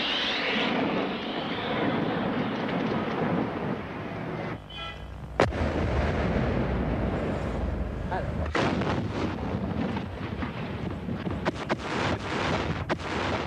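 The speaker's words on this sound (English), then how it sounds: "Tracer shells homed in on suspected PLO positions." Artillery fire from the 1982 Lebanon war booms in several sharp, heavy blasts, loud and close, over a rushing aircraft-like roar and wind buffeting, with irregular bursts in the later part.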